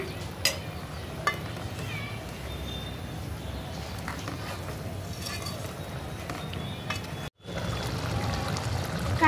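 Chicken gravy curry simmers in a pan with a steady, close bubbling hiss, broken by a couple of faint clicks and a brief dropout, with no voices.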